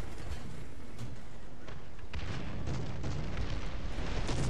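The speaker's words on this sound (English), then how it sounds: "right before the artillery hit" A video-game artillery shell strikes near a tank, damaging its track, in a dense rumbling burst of blasts and debris over steady background battle noise.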